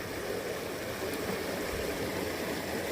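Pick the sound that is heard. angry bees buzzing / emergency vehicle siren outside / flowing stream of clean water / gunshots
flowing stream of clean water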